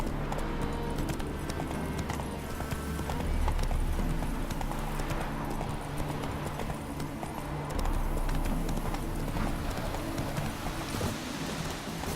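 Roach, the horse in The Witcher 3, clip-clops at a steady trot, hoofbeats sounding as a dense rhythmic patter over background game ambience throughout.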